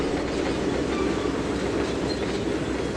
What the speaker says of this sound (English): Oh, it's the same CSX engine just going by.